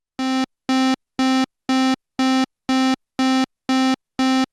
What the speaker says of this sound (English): can simply turn on your arpeggiator, hold the note.